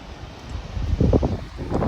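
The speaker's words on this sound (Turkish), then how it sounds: "Biraz da rüzgarlı bir gün." Wind gusts rumble and buffet across an open coastal space by the sea, swelling and easing in a low, steady roar.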